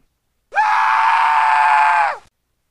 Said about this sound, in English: A death scream.